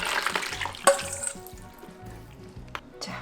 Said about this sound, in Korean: 자, 물 100ml 더 넣을게요.